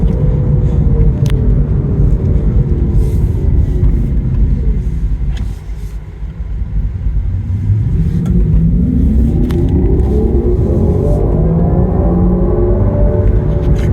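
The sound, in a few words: Kia EV6 electric car driving sounds on road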